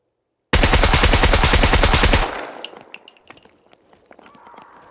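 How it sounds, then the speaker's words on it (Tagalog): Automatic gunfire in the video game SCUM, a loud rapid burst of shots lasting nearly two seconds, then cutting off into a quieter tail with scattered small sounds. "Nababaril niya ako."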